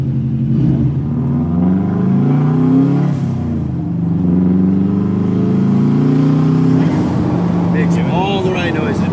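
A car with a 4-cylinder turbo engine rumbles and revs up close, the engine note rising and falling beneath people talking inside the cabin.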